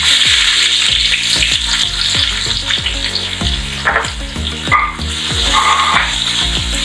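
Onions sizzle and fry steadily in hot oil with fenugreek powder while cooking a chicken roast, a loud continuous crackle broken by a few stirring scrapes, with no talking.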